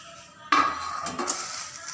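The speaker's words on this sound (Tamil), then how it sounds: "நம்மளோட மிளகாய் எல்லாம் நல்லா சூடேறி வறுப்பட்டுருச்சுங்க." Dried red chillies, with seeds removed, are dry-roasted in a pan to make homemade sambar powder. A sudden metallic clatter starts things off, followed by continuous rustling and scraping from the chillies being tossed about. No voices are heard.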